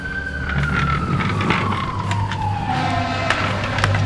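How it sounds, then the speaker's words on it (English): A toy fire truck siren wails loudly and continuously, its pitch sliding slowly downward, with a faint rumble of engine noise beneath. "I'll turn on the sirens."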